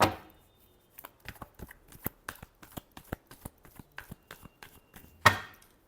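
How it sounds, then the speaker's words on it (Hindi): Tarot cards being shuffled up close, a rapid series of crisp riffling snaps in an uneven rhythm, bracketed by louder card slaps at the start and near the end. "Last shuffle."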